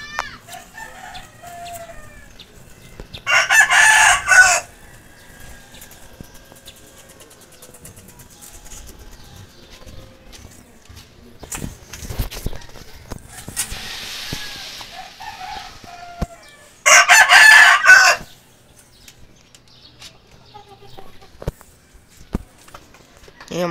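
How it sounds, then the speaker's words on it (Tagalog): A rooster crows loudly twice, well apart, with quieter clucking and farmyard rustling in between, at a grandmother's house. "Yung mga manok."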